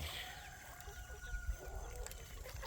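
Chickens cluck softly and steadily at a distance, a low farmyard murmur with a few faint higher calls over rustling background noise.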